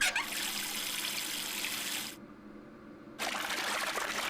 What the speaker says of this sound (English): The sink is plugged, and now to turn on the water.